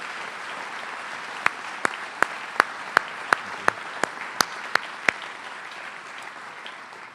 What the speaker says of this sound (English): If we could give them one more round of applause and all the kids in this class